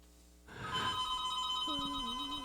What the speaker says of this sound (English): You expecting a phone call, Bob?